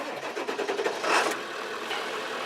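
A Ford F-350 truck with the 7.3 engine runs steadily on a test drive, a continuous mid-range drone with a brief swell of louder noise partway through.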